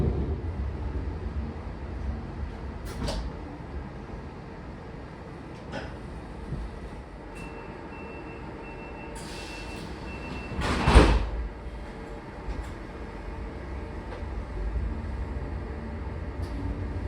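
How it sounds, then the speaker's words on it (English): A Munich S-Bahn Class 420 train closing its doors aggressively: a low rumbling interior hum with a few soft clicks, then one loud, sharp slam of the doors near the middle before the rumble continues. "After a very aggressive door close, which at least for the S-Bahn seems to just be a thing on the Class 420s"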